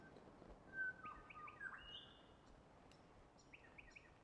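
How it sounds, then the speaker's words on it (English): Several birds chirp and whistle in short, bright phrases over a soft, steady ambient background, fairly faint and without any talking. "Beautiful bird sounds."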